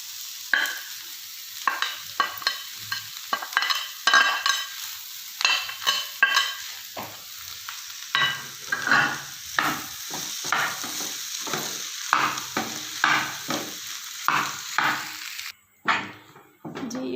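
Grated potato stuffing being stirred and mixed with spices in a pan for crispy aloo pinwheel sandwiches, with repeated scraping strokes and a soft sizzle running throughout, close and steady.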